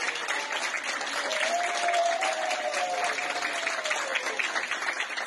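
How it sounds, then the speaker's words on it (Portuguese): Doctors and nurses in a hospital applaud a man who recovered from COVID-19 after 14 days on a ventilator, a steady, even clapping that continues throughout at moderate distance. "Os aplausos são uma homenagem de médicos e enfermeiros a quem, mesmo infectado pelo coronavírus, lutou pela vida"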